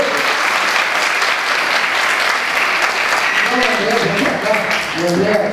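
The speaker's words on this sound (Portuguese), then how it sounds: "E uma salva de palmas para o público que." Steady applause from an audience at a book launch, dense and continuous throughout, with a few voices rising over the clapping toward the end.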